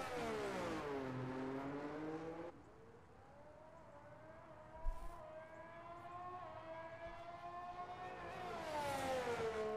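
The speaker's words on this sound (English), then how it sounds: "Killian, I believe, exiting the pits to maybe give TD the slipstream in Q2." A race car engine in a sim racing game at the China GP, a whining tone that climbs and drops through gear changes as the car exits the pits, fairly steady and alone.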